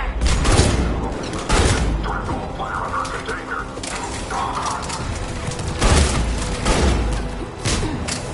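Gunfire in Mass Effect 3 during a fight with Cerberus troops at a checkpoint, loud bursts of shots and thuds mixed with mechanical clatter, with voices talking over the combat.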